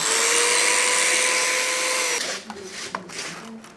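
A 1-inch round metal pipe is cut into pieces. A loud, steady high whine lasts about two seconds, then cuts off, leaving a few faint knocks and clatters.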